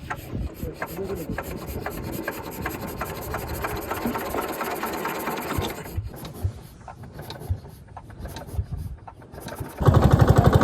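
A fishing boat's engine runs with a steady rough mechanical rasp and drone, fairly loud and continuous, shifting to a harsher, louder chugging near the end.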